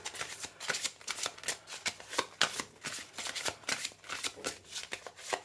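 Archetype oracle cards riffle and shuffle close by in a rapid, repeating rhythm of soft flapping bursts.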